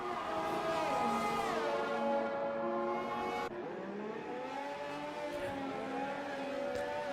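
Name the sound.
racing cars in the video game F1 Rapid Racers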